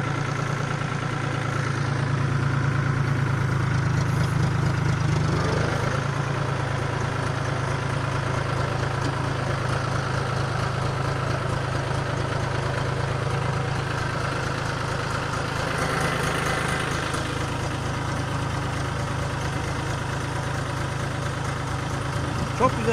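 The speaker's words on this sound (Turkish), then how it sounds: "Çok güzel bir sesi var traktörün ya" A New Holland 50C tractor idles steadily throughout with a loud, continuous low diesel rumble, while a crop sprayer pump works on a potato field on a calm day. A brief shift in tone comes partway through.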